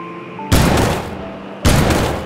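A newly added sniper rifle in the Gorebox shooter fires two loud, booming shots about a second apart, each one ringing out with a long reverberant tail.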